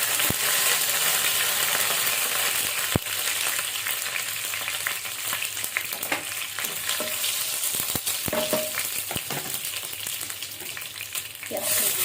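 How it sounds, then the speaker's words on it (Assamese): Panch phoron spices and bay leaf crackling in hot oil for a jackfruit seed curry, a dense continuous sizzle with scattered pops and clicks, close and alone without speech. "তেল গৰম হ'ল, অকণমান কেইটামান মই ইয়াত পাঁচফোৰণ দিছোঁ"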